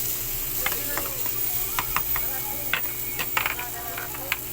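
Beef simmers in a spicy broth for a homemade enoki mushroom beef samgyupsal dish. A bubbling, sizzling base carries irregular light clinks and scrapes of stirring at close range.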